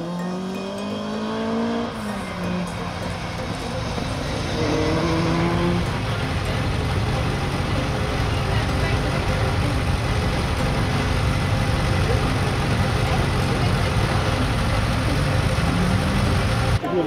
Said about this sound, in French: Leur toujours très photogénique Ford Escort MK1 réalise un début de rallye tout à fait solide.